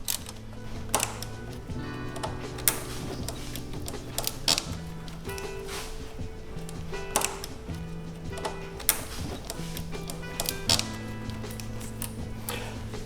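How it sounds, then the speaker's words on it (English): A 10 millimeter bolt is worked loose on an Audi C7 4.0T engine, giving a quiet run of sparse metallic ticks and clicks at an uneven pace, with no talking. "So it is a 10 millimeter. So we're gonna take the outer bolt off."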